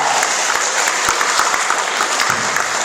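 A school assembly audience applauds a child who has just matched spelling cards, a steady dense clatter of many hands running the full length without pause.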